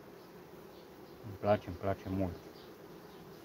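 Honey bees buzzing at an opened hive in July after honey extraction, a faint steady hum under a close, brief spoken remark.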